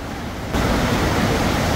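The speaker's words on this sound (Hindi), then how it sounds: "पार्वती नदी का फ्लो देखो कितना ज़्यादा है" Rushing flow of the Parvati river at Manikaran, a loud steady broadband roar of fast water that swells louder partway through and continues unbroken, with no voices.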